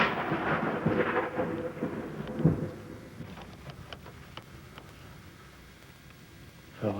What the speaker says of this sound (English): At Fritch, a man was struck by lightning.